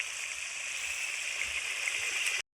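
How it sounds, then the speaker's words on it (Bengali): Fish curry in a pan coming to a boil, with a continuous bubbling hiss that fills the clip and then cuts off abruptly at the end, with no talking. "একটু ফুটে উঠুক তারপরে দেবো।"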